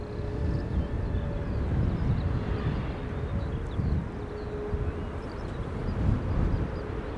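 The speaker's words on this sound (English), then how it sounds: "A330neo arriving from Seattle, Washington. Let's look and listen." An Airbus A330neo airliner arriving at Amsterdam Schiphol Airport in windy weather, its engines a steady low roar heard from a distance, mixed with gusting wind noise and no talking.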